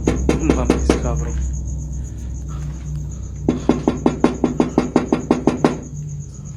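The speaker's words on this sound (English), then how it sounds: "Night after night, the knocking continues, never fully stopping." Repeated knocking at night comes in two bursts of quick, evenly spaced knocks separated by a short lull. A steady high insect chirr runs underneath throughout.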